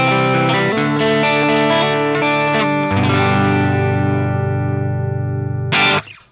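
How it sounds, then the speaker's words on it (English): Electric guitar played through a Sonicake VolWah pedal into a Marshall SV20H amp with greenback speaker IR, loud sustained distorted chords shifting to a lower ringing chord, then a sharp final strum cut off abruptly. "I'm obviously going through the pedal and then into a Marshall SV20H with a greenback speaker IR."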